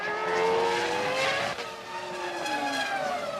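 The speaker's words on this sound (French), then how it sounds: "lorsque soudain, la Ferrari de Barrichello perd pied." Rubens Barrichello's Ferrari Formula 1 car loses grip during a 2002 Grand Prix, a loud, close, high engine whine sliding downward in pitch as the car slithers, with a brief tire squeal and crowd and track noise beneath.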